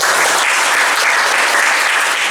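An audience of participants in a classroom teaching session claps steadily, a loud, dense burst of applause with no talk over it.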